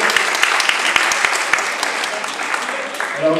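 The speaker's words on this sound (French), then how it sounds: "On peut l'applaudir." An audience applauds at a samurai armour and kendo presentation, a dense patter of clapping hands that holds steady for several seconds and thins toward the end.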